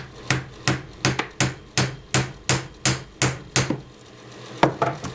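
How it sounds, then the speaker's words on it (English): A mallet taps repeatedly on the head of a Suzuki Samurai engine during a top-end teardown: about a dozen sharp, loud, evenly spaced knocks close by, pausing briefly before a few more blows. "I'm going to take a mallet, and while I'm trying to unscrew these, I'm going to tap on the top to help break it free."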